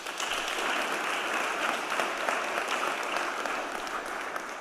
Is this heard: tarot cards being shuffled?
no